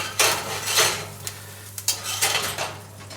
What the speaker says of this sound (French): On enlève les chapeaux